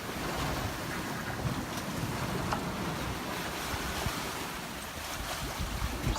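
A sailboat running under spinnaker at eight to nine knots off Cape Hatteras rushes through ocean waves, with continuous hissing water and heavy wind buffeting the microphone, steady and close throughout.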